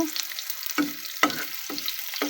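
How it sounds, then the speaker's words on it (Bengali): Chopped onions fry in a pan on the way to browning. Hissing sizzle comes in bursts as they are stirred, close and fairly loud, with no talking. "তারপরে পেঁয়াজটা দিয়ে দিচ্ছি পেঁয়াজটা লাল করে নেব"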